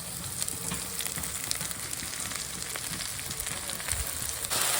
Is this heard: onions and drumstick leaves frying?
yes